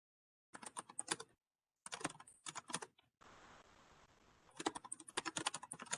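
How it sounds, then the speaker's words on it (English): Quick bursts of clicking keystrokes on a computer keyboard from an unmuted participant in an online meeting, in short runs separated by brief pauses, faint and close. "We can hear someone typing."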